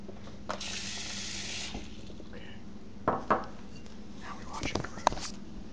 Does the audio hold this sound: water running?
yes